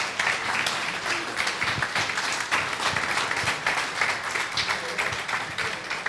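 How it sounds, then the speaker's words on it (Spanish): A church congregation breaks into sustained applause, dense and continuous clapping filling the room at steady volume for several seconds, with faint voices mixed in. "Así que aplaudamos."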